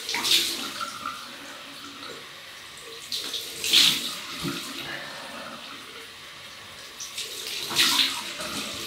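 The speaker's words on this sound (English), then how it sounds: "That is nice with the cold water rinse, which will be lovely." Cold water runs from a tap during a shave rinse with a vintage Shulton Old Spice setup, a steady splashing stream with louder bursts as hands or a razor pass through it.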